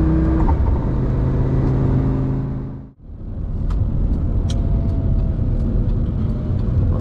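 A Lamborghini Gallardo accelerates hard up a highway on-ramp, a loud engine roar that cuts out briefly at a gear change and then builds again, heard close from inside the car with no talk.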